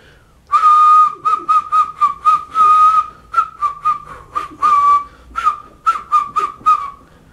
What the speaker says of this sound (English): I could whistle through my tongue.